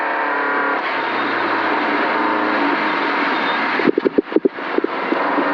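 Onboard a rally car at the 2022 Sno*Drift Rally, the engine drones loud and steady, then a burst of sharp pops and crackles breaks through near the end.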